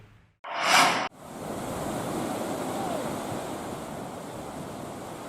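High waves crash onto a beach at Merauke, Papua, where fishing boats are moored. One loud, close surge breaks first, then settles into a continuous broad roar of surf.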